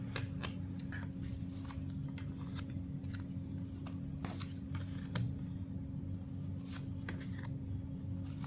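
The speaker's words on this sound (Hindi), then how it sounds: "थोड़े और कार्ड्स निकाल लेती हूँ" Tarot cards being shuffled by hand, a steady run of soft riffling and flicking taps over a low constant hum, close and moderately loud with no talking.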